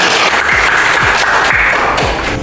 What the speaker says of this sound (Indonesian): kita berikan aplaus untuk Putri